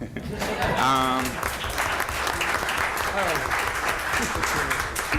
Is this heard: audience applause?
yes